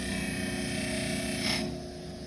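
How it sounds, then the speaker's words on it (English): A rasp blade is sharpened with very gentle pressure against a running abrasive, making a steady, fairly quiet grinding whir that holds level and then drops away slightly near the end, with no talking. "we want to keep the blade moving so it doesn't overheat"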